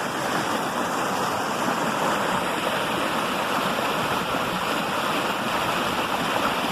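A rocky stream pours continuously over a natural fish ladder where rough water gives way to smooth water, making a loud, broad rushing wash with churning eddies that stays steady throughout.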